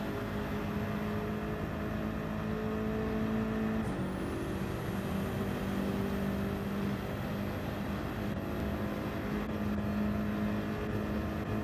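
Porsche race car engines in Gran Turismo 7 at Watkins Glen, a continuous droning engine hum with steady tones and a pitch shift partway through, loud and unbroken with no talking.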